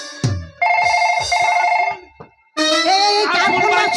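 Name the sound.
mobile phone ringing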